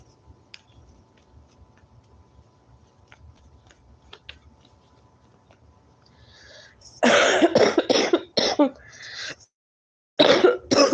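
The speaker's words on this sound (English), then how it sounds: "why is my cough so bad?" A quiet stretch of faint ticking gives way to a burst of several harsh, loud coughs close by, a brief pause, then more coughing.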